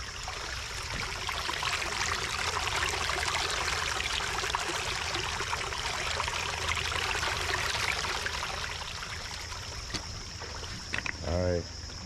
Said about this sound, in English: Everything looking like it's flowing pretty good. It's enough water.